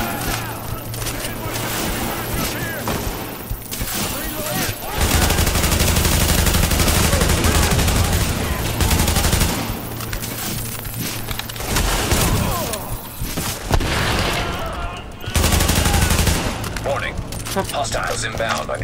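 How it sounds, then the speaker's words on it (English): Dense, loud gunfire from the video game The Division, with shotgun blasts and rapid automatic fire booming almost continuously for a long stretch, while a voice talks over the combat. "so I just shot him with my shotgun"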